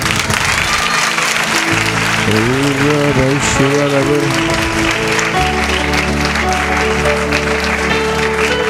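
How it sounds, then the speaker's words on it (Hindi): A church congregation claps for Jesus during a worship service, the applause rustling beneath a steady musical backing and a voice speaking over it, fairly loud and sustained. "यीशु के लिए ताली बजाएं।"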